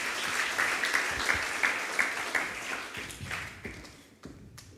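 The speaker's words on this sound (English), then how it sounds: "why don't you give these guys a huge round of applause" Audience at a Mother's Day event giving a big round of applause, a full burst of many clapping hands that gradually thins out and tapers to scattered claps by the end.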